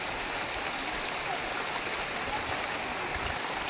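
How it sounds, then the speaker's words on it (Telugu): Heavy rain pouring steadily at the Araku waterfalls, a dense, even hiss with no pauses, close and loud throughout. "వర్షం బాగానే వస్తుంది చూసారు."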